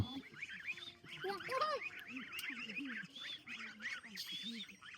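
A flock of ducklings kept with a larger group of ducks quacks and peeps in a busy, overlapping chorus close by, with a few louder calls rising above the chatter.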